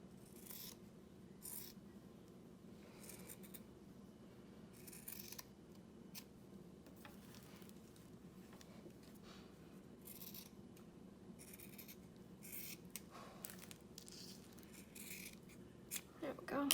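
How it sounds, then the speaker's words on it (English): Scissors snip through excess fabric while sewing a protective cover, with quiet repeated cutting strokes and light rustling of cloth over a low background hum. "Now we're gonna go ahead and cut all this extra off."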